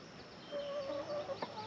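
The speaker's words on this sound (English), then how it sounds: "Sorry, the chickens are right next to my feet." Chickens clucking softly right beside someone at an outdoor backyard barbecue, a few low warbling clucks close by, faint and brief.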